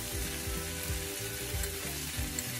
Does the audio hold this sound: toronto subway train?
no